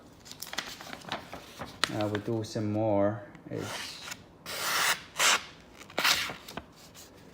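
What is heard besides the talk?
knife blade cutting through paper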